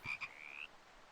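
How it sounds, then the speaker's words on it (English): A frog croaks in a video game set in a mushroom-filled forest: two short, close croaks followed by a rising drawn-out trill, heard alone. "Oh my gosh, that's a spooky little frog there."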